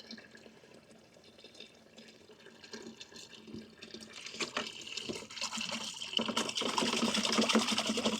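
Water runs into a 300-gallon reservoir, starting as a soft trickle and building into a louder, steady rushing pour toward the end.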